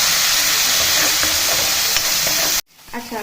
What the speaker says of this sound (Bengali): এবার রসুন আর পেঁয়াজটা ভালো করে একটুখানি কষাবো